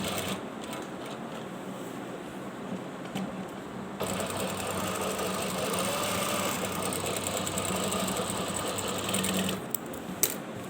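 A sewing machine stitches a sleeve cuff in a V shape, its rapid mechanical whirr running continuously and close, growing slightly louder midway, with faint rattles and a sharp click near the end.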